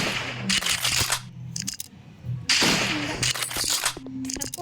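Video game gunfire crackles in two dense bursts of rapid shots with short scattered pops between them, loud and close, with a voice occasionally talking underneath.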